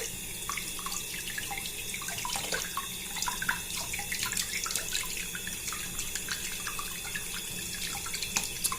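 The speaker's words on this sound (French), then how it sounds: "L'eau froide ça marche très bien. Et puis voilà, c'est tout. Je rince." Cold tap water runs steadily into a bathroom washbasin while something is rinsed under it, a continuous close splashing stream with small drips and clinks, and no voices.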